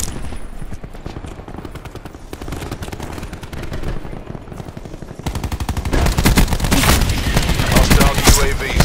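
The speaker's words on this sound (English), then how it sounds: "Firing sensor gun." Sustained automatic fire from a sentry gun in Black Ops 4 rattles in rapid bursts, growing louder and denser partway through amid other game noise.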